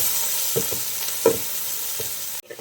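Chopped onions and small shallots sautéing in coconut oil, making a soft, steady sizzle broken by a few sharp spoon scrapes, with a sudden clatter near the end and no talking.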